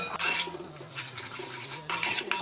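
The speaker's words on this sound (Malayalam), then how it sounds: "നല്ലതുപോലെ ഇനി ഇതൊന്ന് ഇളക്കി വറ്റിച്ചെടുക്കണം." A utensil scrapes a pan while stirring a puli inji mixture of tamarind, ginger, salt and jaggery syrup, giving short, close, repeated rubbing strokes in an uneven rhythm with no talking.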